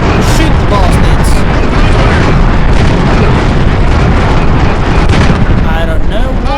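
Loud, dense artillery and gunfire from the Empire Earth 2 San Juan Hill 1898 battle, a constant barrage of booms and cracks with battle voices mixed in.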